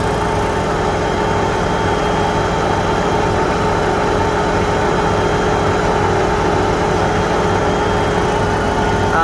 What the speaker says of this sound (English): Literally just kind of riding the brakes of the tractor right now.